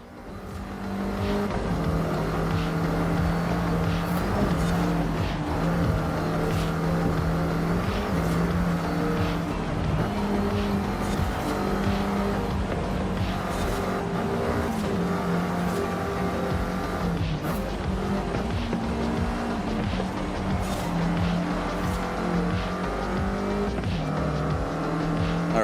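F1 25 race cars accelerate in a video game race, a loud sustained engine roar with harmonic whine running throughout, several cars layered together with occasional brief tire squeal, no talking.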